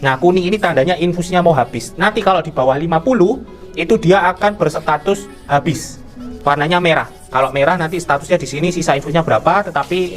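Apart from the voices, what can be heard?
None of the usual background noises is heard.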